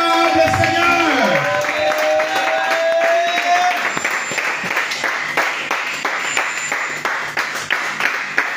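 A church congregation applauds and acclaims the Lord, sustained clapping and cheering from a large crowd as a sung or spoken note fades out at the start.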